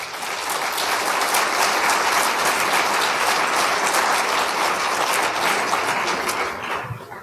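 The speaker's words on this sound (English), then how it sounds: "I'd like you to give them all one more round of applause, please" Sustained audience applause fills the hall after a talk on the state of California Community Colleges, a dense even wash of many hands clapping steadily for about seven seconds before tapering at the end, with no speech over it.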